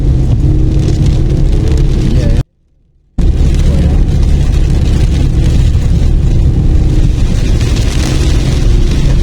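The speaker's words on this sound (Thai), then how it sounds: "ฝนตกแล้วครับ" Heavy rain drums loudly and steadily on a car climbing the mountain road up Phu Thap Boek in Phetchabun, Thailand, a dense continuous roar broken by one short dropout.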